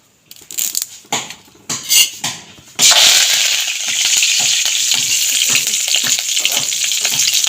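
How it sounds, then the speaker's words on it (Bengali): Curry leaves drop into hot oil after a few clattering utensil knocks, then burst into a loud, close, sustained crackling sizzle that settles into a steady fry. "তেলে দিয়ে একটুখানি ভেজে নিলাম কারি পাতাটাকেও"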